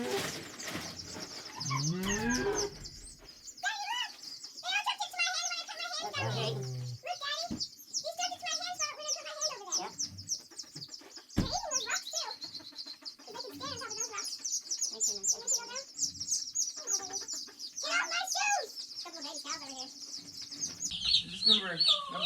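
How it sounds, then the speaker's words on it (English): Chickens cluck and squawk in a busy, close flock on a farm with about a hundred chicks, the calls overlapping continuously while a person talks among them. "Look, I'm getting attacked by all the chickens."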